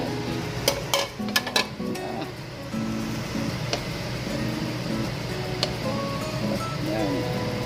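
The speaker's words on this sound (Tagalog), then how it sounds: "ibalik na natin yung hipon sa loob ng kawali" Shrimp stirred in a frying pan with garlic and salted egg for buttered shrimp: a quick burst of metallic clinks and scrapes at first, then a steady close sizzle with occasional utensil taps.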